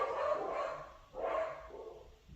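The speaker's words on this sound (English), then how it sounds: "As my dogs go crazy." Dogs bark indoors in two bursts at moderate distance, a cluster of barks followed by another after a short gap.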